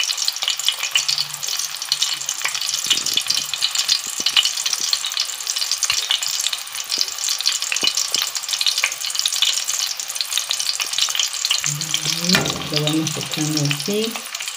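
Battered cauliflower fries in hot oil with a dense, steady crackling sizzle throughout, close and fairly loud, joined near the end by a few brief clinks as the pieces are turned.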